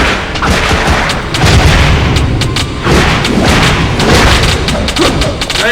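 Explosions boom and thud in Castlevania: Lament of Innocence on PS2, loud repeated blasts crowding one another in a dense, continuous barrage with no talk.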